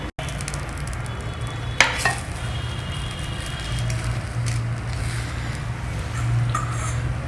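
A breakfast item toasting in ghee on a pan, a steady close sizzle throughout with a low background hum and one sharp knock partway through.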